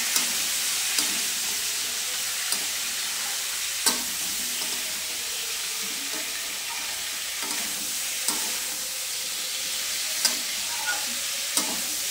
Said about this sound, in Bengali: তারপরে এবার ডাঁটাটা দিয়ে এটা ভাজা হবে।